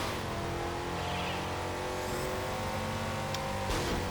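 A car in Midnight Club: LA Remix holds a burnout, its engine revving loud and steady over a continuous roar with tire noise, and a brief squeal near the end.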